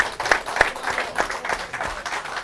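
Studio audience applause welcoming a singer onto a television show, a modest uneven patter of claps at moderate distance with a few sharper individual hits standing out.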